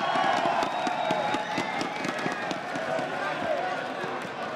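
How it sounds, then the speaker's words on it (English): Packed crowd at an Intel Extreme Masters League of Legends esports semifinal at Campus Party 2014 in Sao Paulo, a loud continuous roar with cheering and clapping spikes, an announcer talking over it throughout. "As you can probably hear, the crowd are very, very loud."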